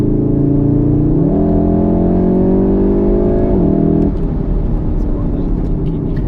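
A BMW M135i engine revs up and holds a steady droning tone, then drops back, loud and close inside the car, with a voice speaking over it.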